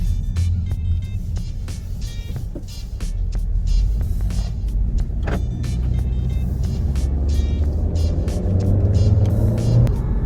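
A 2022 Honda Civic Touring, 11th generation, on the move: a steady low engine and road rumble with tyre noise throughout, and a rising tone near the end as it picks up speed, with scattered ticks and clicks from the cabin.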